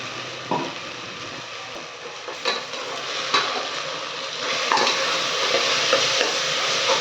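Ground masala paste for Ambur biryani sizzling in a pan, a steady frying hiss broken by several sharp scrapes of a stirring spoon, close by, with the sizzle growing a little louder toward the end.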